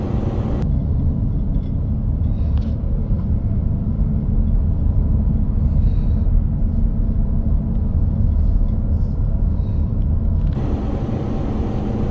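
A first-generation Toyota Tundra pickup towing an RV up a steep four-lane road toward Shaver Lake, California, produces a steady, loud engine and road rumble that holds evenly throughout with no talk.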